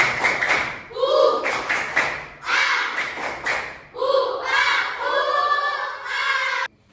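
A school class performs the tepuk rimba routine in a Hindu religious education lesson, loud chanting voices punctuated by sharp rhythmic claps and taps in several bursts before an abrupt stop.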